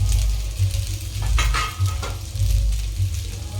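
Chillies and curry leaves sautéing in hot oil for sago khichdi, a steady loud sizzle with stirring scrapes in the pan and no talk.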